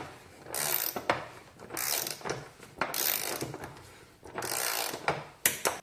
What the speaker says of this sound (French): Donc à présent, on peut resserrer l'axe de roue.